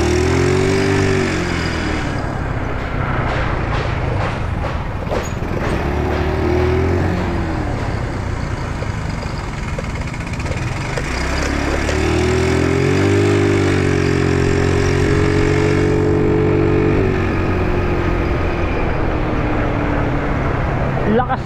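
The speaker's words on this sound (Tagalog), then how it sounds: "Lakas talaga ng makina nitong aking motor na to." A motorcycle engine runs steadily while being ridden on a road, its mid-pitched drone rising and falling with throttle changes, close and loud throughout with wind and road noise, while someone talks over it.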